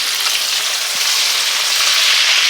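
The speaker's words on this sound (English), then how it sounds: "I'm gonna fry these up the rest of the way, get them all nice and browned up" Lamb chops frying in a pan, a steady, bright sizzle and crackle of hot oil that holds evenly and closely throughout with no voices.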